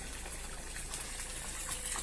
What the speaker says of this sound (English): So there's the overflow there.